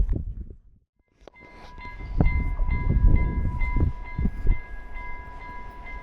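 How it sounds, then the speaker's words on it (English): A Bergen-to-Oslo train in Norway rumbles past close by, its rolling low roar swelling and fading, with a steady high tone ringing over the passing cars. "Here comes the train from Bergen towards Oslo, and it's running a little late"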